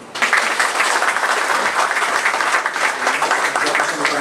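Warm crowd applause at a cornerstone-laying ceremony for the Olivia Star building, a dense, continuous burst of many people clapping that starts abruptly and holds steady throughout.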